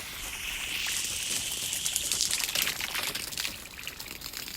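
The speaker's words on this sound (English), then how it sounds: "The little duckies is playing in the water as I spray." A garden hose sprays water over ducks, a steady broadband hiss and patter close by with no talk.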